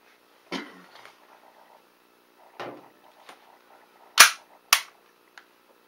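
WE Toucan gas blowback airsoft pistol, a Smith & Wesson M&P replica, fires four sharp shots with crisp slide snaps at irregular intervals, each followed by a short mechanical rattle, then a faint click in a quiet room.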